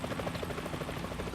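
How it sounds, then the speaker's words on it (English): Helicopter rotors chop steadily and loudly in the video game Metal Gear Solid 2: Sons of Liberty, a continuous throbbing beat with no voices. "Is that a chopper I just heard?"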